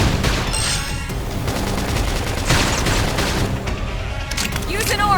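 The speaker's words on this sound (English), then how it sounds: "Flame grenade!" A flame grenade explodes during battle in Xenoblade Chronicles X, a loud booming burst woven into continuous gunfire-like combat noise, with voices calling out over the fighting.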